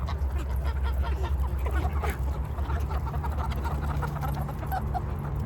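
Backyard flock of geese, ducks and chickens honking, quacking and clucking together in a steady, busy din, with scattered calls overlapping throughout and low rumbling in the background.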